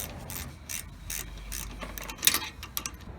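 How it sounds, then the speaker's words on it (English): A 15mm wrench ratchets and scrapes in short bursts while tightening the brake caliper bolts on a Jeep Wrangler Unlimited's rear brakes, quiet and close, with small metallic clicks and no talk. "Using the 15mm wrench, go ahead and hold the boot down and tighten the caliper bolts."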